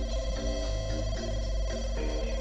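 In The Sims 2, an in-game telephone rings in repeated electronic trills over steady background game music.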